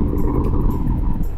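A Royal Enfield motorcycle cruising at around 100 on the Bardhaman road, giving a loud, steady broadband roar of engine and wind rush that stays constant throughout with no talking.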